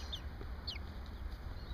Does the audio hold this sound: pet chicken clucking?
yes